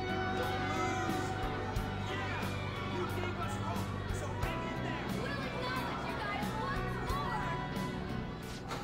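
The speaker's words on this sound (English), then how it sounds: "they're cheering for us!" Crowd of voices cheering and chattering in Persona 5 Royal, a steady dense babble of many people held at moderate level throughout, with occasional sharper shouts rising above the mass.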